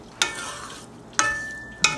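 Dominican-style spaghetti sizzling in a hot pan, with a few sharp scraping clatters from stirring and a thin steady hiss between them.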